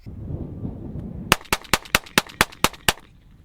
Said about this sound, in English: So shooting it on our range where we normally shoot, it was a little bit louder than one might have liked